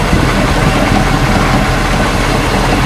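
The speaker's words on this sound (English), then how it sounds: "the engine seems to be hitting on all 8 cylinders" Mercruiser V8 boat engine idling steadily on all eight cylinders, a loud, continuous low rumble close by with no pauses or voices.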